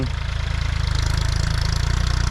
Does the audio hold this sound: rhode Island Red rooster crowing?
no